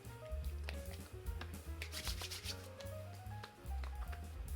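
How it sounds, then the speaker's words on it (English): Soft rubbing and pressing of moisture essence between palms and onto skin, close and quiet, a steady swishing friction with light slaps and shuffles, no voice. "I'm just going to put it in the palm of my hand, gonna kind of rub and push that moisture into the skin."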